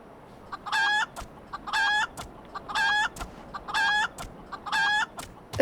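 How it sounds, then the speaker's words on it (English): A chicken alarm in Final Fantasy XIV sounds off as a repeating clucking, squawking call, five regular loud bursts about a second apart over a quiet background. "It's a chicken alarm."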